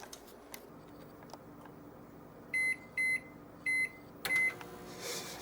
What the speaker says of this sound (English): I'm going to put this back in the microwave and heat it up a little bit.